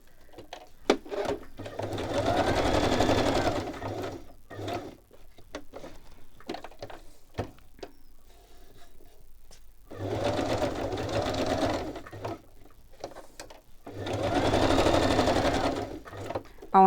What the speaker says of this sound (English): I'm just going to stitch that on there.